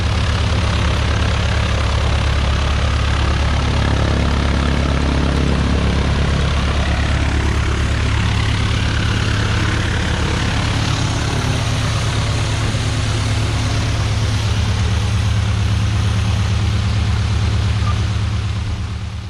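A RANS S-21 light aircraft taxis on its first high-speed taxi run, its propeller engine droning loud and close without a break, with rough wind buffeting over the top.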